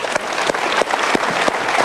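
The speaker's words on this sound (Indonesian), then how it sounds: "Ya, kita berikan tepuk tangan, boleh?" Studio audience at an Indonesian motivational talk show clapping together, a dense, steady wash of hand claps close by with no voices over it.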